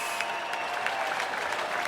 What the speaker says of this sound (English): put your hands together for yourselves tonight